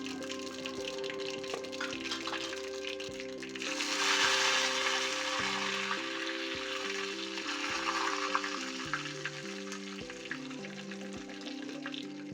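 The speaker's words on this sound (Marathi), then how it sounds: "तेल गरम करून जिरे, मोहरी आणि धुतलेला कढीपत्ता इथे घालून फोडणी तयार करून घेतलेली आहे" Cumin, mustard seeds and washed curry leaves sizzle in hot oil as a tempering for chutney, a steady crackling fry that swells midway, heard alone without speech over a low background hum.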